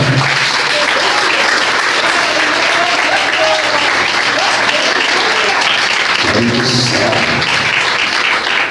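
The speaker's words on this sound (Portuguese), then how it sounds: "Vamos aplaudir Jesus de Nazaré" A church congregation applauds together, dense steady clapping filling the space from start to finish with a brief swell near the end, voices faint underneath.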